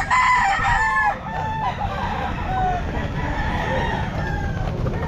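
An eight-month-old Kelso gamefowl rooster at a pet market crows loudly and close, followed by repeated clucking and cackling over a busy background of other fowl.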